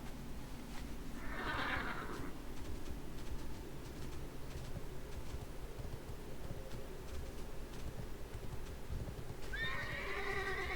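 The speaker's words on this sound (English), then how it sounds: "my horse is whinnying because I was being attacked" A horse mount in World of Warcraft, in the Duskwood area, whinnies twice, a short neigh early on and another near the end, over a steady low background of game ambience and hoof sounds.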